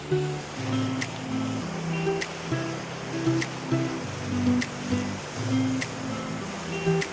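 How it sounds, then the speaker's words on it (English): Waterfall and river water flowing along a jungle river in Panama, a steady broad rush with some low rumble, continuous and fairly close, with no voices. "Come look at the waterfall."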